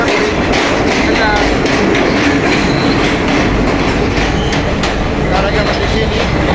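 A train passing close by, loud continuous rumble and clatter of wheels on rails throughout, with faint voices underneath.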